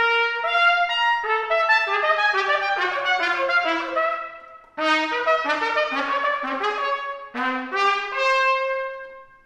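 A valved natural-style trumpet, as in the clarino tradition, sounds only its first three overtones in repeated rising note patterns, clear bright harmonic tones played alone with short breaks between phrases.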